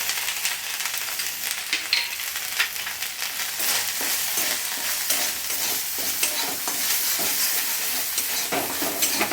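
Frying in a pan with chilli paste and turmeric gives a dense, continuous sizzle, with repeated scraping stirs of a spoon against the pan close by.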